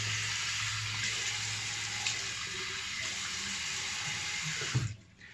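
A bathroom tap runs cold water into a sink for a shave, a close, steady rushing stream that cuts off abruptly near the end with a brief clunk.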